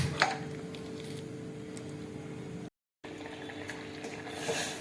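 Steady bubbling and hissing of banana stem cooking in salted water in a pot on a stove at a low simmer, close and continuous, with a brief dropout partway through.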